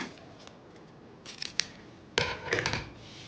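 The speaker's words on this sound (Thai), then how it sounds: "ต่อไปให้ตัดนะคะ" Scissors snip banana leaf for a krathong at close range, a few light crisp cuts followed by a louder cluster of sharp snips and rustling toward the end.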